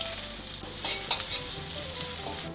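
Ginger strips frying in hot ghee, a steady close sizzle with a few stirring scrapes and clicks in the pan, no voices.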